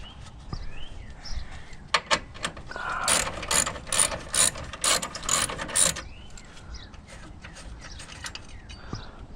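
A hand ratchet works loose the battery terminal nut on a 2014–2019 Toyota Corolla, giving a quick run of sharp, close clicks in the middle, with a few isolated ticks before and after.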